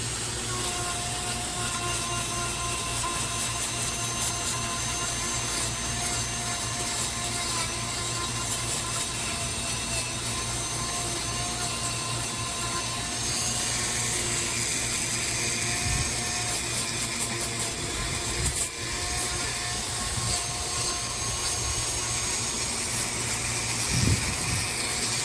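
A power carving tool shaving down wood on a wood spirit carving: a steady, loud, high-pitched motor whine with gritty abrasive rasping that runs continuously, varying slightly as the bit bites into the wood.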